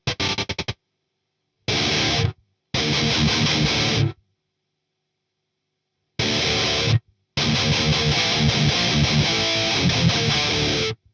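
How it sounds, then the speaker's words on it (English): Heavily distorted electric guitar blasts through a high-gain amp with a Fortin Zuul Plus noise gate in loud, chunky bursts, cut off abruptly with dead silences between them, one long riff closing it out. "that's loads of gain going through the front end of that amp"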